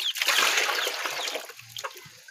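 Water runs from a tap in a thin stream, splashing and trickling into a container, strongest at first and then thinning into scattered drips and small splashes.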